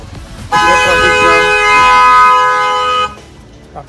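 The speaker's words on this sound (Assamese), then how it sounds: "আমি আহোঁতে জাম পাই গ'লোঁ পুৰা ট্ৰাফিক" A car horn blares in one long, steady, loud honk of about two and a half seconds, standing out over the low rumble of idling traffic during a jam.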